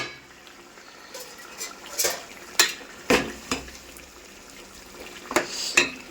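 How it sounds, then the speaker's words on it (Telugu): A metal lid set onto a cooking pot of mutton curry, giving several sharp, close clinks and knocks spread over a few seconds, with faint stirring and cooking noise between them and no talk. "ఇప్పుడు మనం ఒకసారి మూత అయితే పెట్టుకుందాం"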